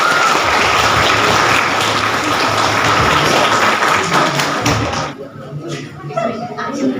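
Wedding guests at a church marriage celebration in Mogradangi Parish, Jalpaiguri, West Bengal, India, clap in a loud, dense crowd round of applause that carries on for about five seconds before fading into quieter scattered claps and voices.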